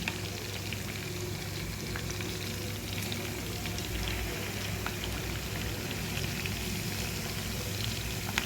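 Fish pieces shallow-frying in oil in a pan over medium heat, giving a steady, dense sizzle with faint crackles and pops that stays even and close throughout, with no talking.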